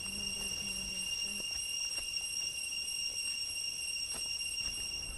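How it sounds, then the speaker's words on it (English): Crickets outside a jungle bungalow at night: a steady, faint, high-pitched chirring drone that carries on without a break, with a few soft low sounds underneath. "we could still hear the crickets singing loud outside"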